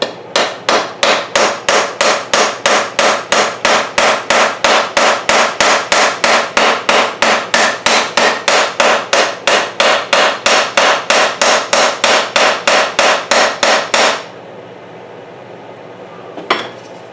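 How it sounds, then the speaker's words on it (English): A small watch hammer taps out a dent in a Schuco Radiant 5600 model car: rapid, evenly spaced metallic knocks, close and loud, repeating for about fourteen seconds before stopping, followed by quiet and one last faint tap. "The watch hammer, we'll try to hammer out this little dent here a bit."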